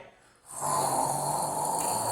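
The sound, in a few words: person imitating loud snoring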